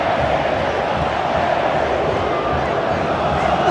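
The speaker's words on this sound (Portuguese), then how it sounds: "Olha a festa da torcida do Ida." Internacional supporters roar and chant inside Beira-Rio stadium during a Grenal derby against Grêmio, a loud, dense, continuous crowd din with voices rising and surging together.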